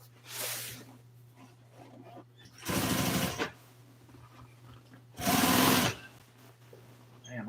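Sewing machine stitching a seat cover for a 1955 Chevy front seat, in three separate bursts of whirring motor and needle, near and loud, with a steady low hum and quiet gaps between runs.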